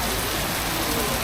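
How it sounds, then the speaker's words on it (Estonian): Rain falls steadily in Bangkok, a dense even hiss that fills the whole short moment at close range with no other sound standing out. "siin ei tea, millal see vihm üldse üle jääb"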